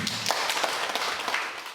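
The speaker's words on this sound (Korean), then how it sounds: "서로에게 큰 박수 한번 부탁드리겠습니다" An audience at a community gathering claps for one another, a dense, fairly close burst of applause with quick overlapping claps that fades slightly toward the end.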